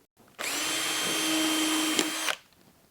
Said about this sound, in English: So drilling the hole.